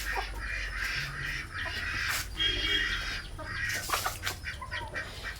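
Chickens tied up in a home yard cluck and squawk in short, irregular calls over a low background rumble, fairly close but soft.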